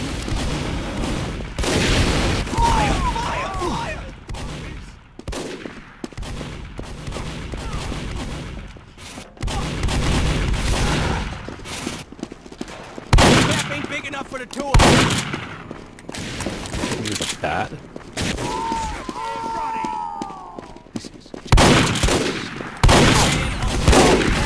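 Gunfire from a pump shotgun in the game Team Fortress 2, with repeated sharp, loud shots and booms in separate bursts over a dense, steady background of battle noise.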